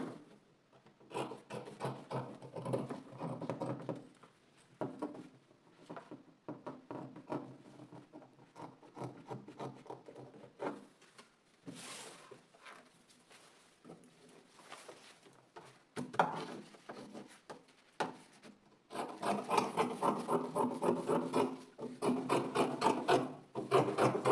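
Scissors cutting through fabric for a bubu gown neckline, a close, continuous crisp rasping and snipping in long bursts with short pauses, growing louder and denser toward the end.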